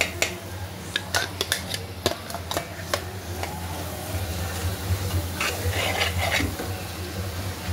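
Black pea usal masala sautéing in oil makes a low steady sizzle, with sharp spoon taps and scrapes against the pan clustered early and scattered later.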